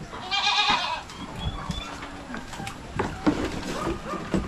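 A goat gives a loud, close, drawn-out bleat at the start, followed by quieter bleats and shuffling from the farm animals, with faint voices in the background.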